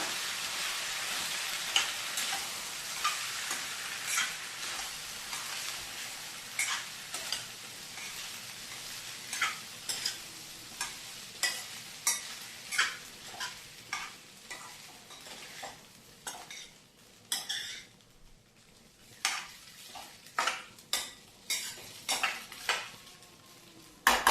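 Overnight-soaked sago is stirred in a pan on a low flame, a spoon scraping and clinking against the metal in repeated strokes, with a faint sizzle beneath and no one talking.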